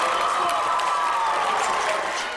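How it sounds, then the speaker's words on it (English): A basketball arena crowd at the Gola goes wild as La Salle retakes the lead with 30 seconds left: a loud, sustained roar of cheering and applause throughout, gently fading at the end. "The Explorers regain the lead with 30 seconds to go, and the crowd goes wild."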